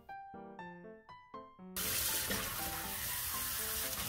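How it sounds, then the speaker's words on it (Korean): Young napa cabbage being washed in water: a few brief splashing sloshes, then steady loud running water rushing over the leaves close by with no talking. "배추를 깨끗이 씻어서 흙을 제거합니다."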